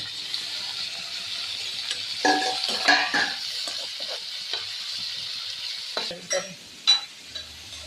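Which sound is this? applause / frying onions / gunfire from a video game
frying onions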